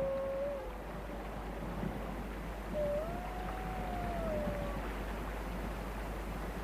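Arctic wolves howl far off, a thin, faint, drawn-out tone that rises and holds, then a second longer wavering howl, all over a steady low wind rumble.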